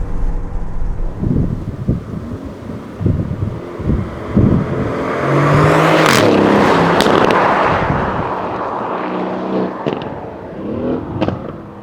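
Aston Martin Vantage engine revving hard toward a 7,000 RPM redline, loud rising roars and crackles building to a sustained peak around the middle before settling, with wind buffeting the microphone.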